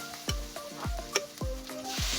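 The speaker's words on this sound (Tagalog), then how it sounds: "Halu-haluin nga lang natin yan hanggang sa maging brown na siya." Pork fries in a pan while being stirred until browned, a close sizzle punctuated by a few distinct spatula scrapes and knocks against the pan.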